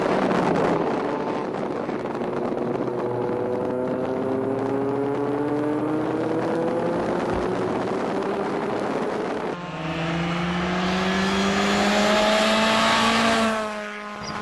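A modified Honda S600 sports car is driven hard on a track, its engine revving in long rising sweeps with a gear change partway through, loud and close under steady wind noise.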